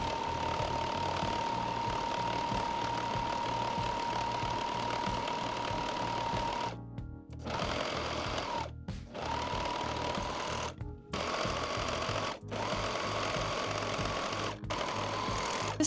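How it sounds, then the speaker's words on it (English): A sewing machine runs steadily, stitching the side seams of a dress skirt with right sides together, with a few brief pauses between continuous bursts of rapid mechanical whirring. "we need to sew up the side seams of our skirt, right sides together"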